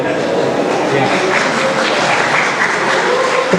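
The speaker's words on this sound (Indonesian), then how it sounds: "Tepuk tangan untuk Gus Miftah." An audience at a school pesantren religious talk bursts into applause, a loud, even clatter of many hands clapping close by for a few seconds, with a bit of crowd murmur underneath.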